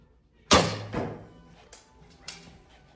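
An arrow from a Hoyt Xceed barebow strikes an indoor target with a single solid thunk, followed by a fading resonance and two faint, smaller knocks.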